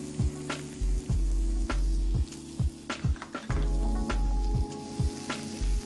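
Urad dal tempering sizzles in hot oil in a pan, with a continuous crackling fry and scattered sharp pops and clicks, close and fairly loud with no talk.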